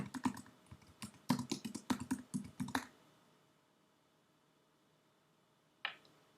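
Keys clatter on a computer keyboard in a quick burst of clicks lasting under three seconds, close and fairly soft, then quiet before one last isolated keystroke.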